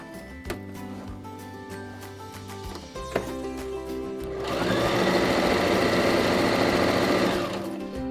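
A sewing machine stitches a reversible tote bag in short bursts with pauses, then runs in a longer, louder stretch of rapid, even clatter that slows and stops near the end.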